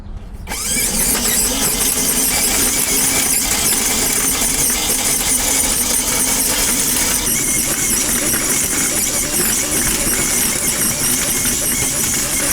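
A Lawnmaster 48V cordless tiller churns through sod with a loud, steady electric whine and grinding, close up and continuous after a short quiet start.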